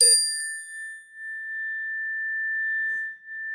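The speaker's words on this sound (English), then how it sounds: "I'll show you my bell here. Ring my bell, ring my bell." A single bright bell strike rings out, its clear tone sustaining and slowly fading over a few seconds in otherwise quiet surroundings.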